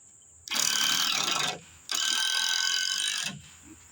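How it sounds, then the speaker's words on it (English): Screws being driven into a wooden feed trough with a power driver: two close bursts of high, grinding whir, each lasting about a second, separated by a short pause and followed by quiet handling. "Ready to put the screws in?"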